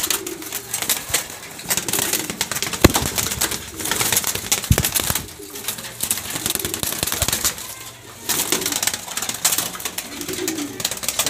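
Mili pigeons of an uncommon rare colour, adult males and females in a pigeon loft, coo faintly beneath a constant loud rushing, clattering noise that almost buries the calls.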